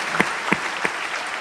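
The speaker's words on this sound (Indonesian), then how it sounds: "tepuk tangan saya dulu kembali Bapak Ibu" An audience at an Indonesian sales-strategy seminar applauds, with a steady wash of clapping and three sharper, louder claps standing out near the start.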